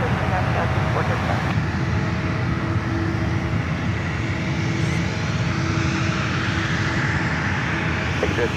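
An airliner's jet engines roar loud and steady at San Francisco airport as it takes off from runway 1 right, a broad continuous rumble with faint voices mixed in.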